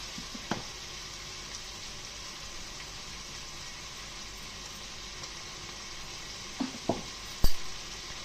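Prawns with turmeric fry in a pan as their released water cooks off, giving a steady, close sizzle throughout, broken by a few sharp utensil clinks near the end.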